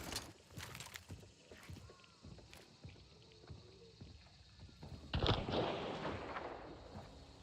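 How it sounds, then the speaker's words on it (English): Scattered bursts of distant video game gunfire and booming blasts from inside an adjacent tower, muffled and irregular, swelling into a louder rumbling volley near the end. "that gunfire is happening inside of the tower adjacent"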